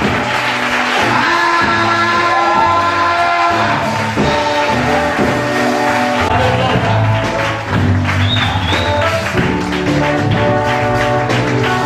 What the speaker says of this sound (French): Je t'entends les acclamations